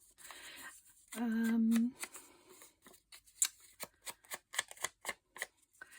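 A bit of paper or cloth is torn off while making sewn collage clusters, giving a run of crisp, crackly tearing bursts close by after a brief steady hum, with no talking.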